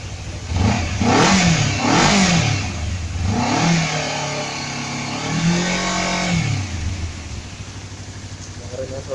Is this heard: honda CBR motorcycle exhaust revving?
yes